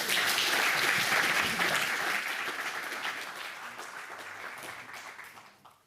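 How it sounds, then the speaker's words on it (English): A crowd applauds warmly, dense clapping that starts strong and gradually fades away toward the end. "round of applause."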